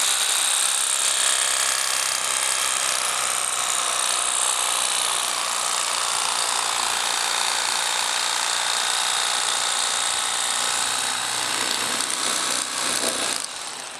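A Bubba Blade lithium-ion electric fish fillet knife runs steadily as it cuts through a fish, giving a loud, continuous, close-up motor buzz that holds for most of the stretch and tails off briefly near the end.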